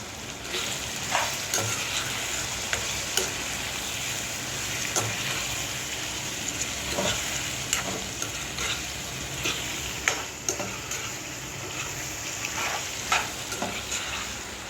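Chicken kali mirch with coriander, mint and salt frying in a pan, a continuous sizzle broken by regular scraping stirs and occasional sharper clinks, with no talking.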